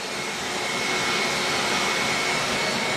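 A Hoover vacuum cleaner sucks the air out of a storage bag holding a motorcycle, droning loud and steady close by with a strained, whooshing roar and no talk.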